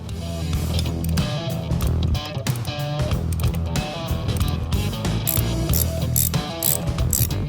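A ratchet wrench loosens the starter bolt on a Harley-Davidson Milwaukee 8 touring motorcycle, clicking steadily and close up in a continuous run with no talk.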